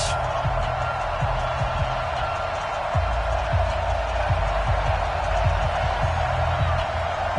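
A virtual stadium crowd in a Madden NFL game before a New Orleans Saints vs New York Giants matchup gives a steady murmuring roar, with scattered low thumps and a commentator talking over it.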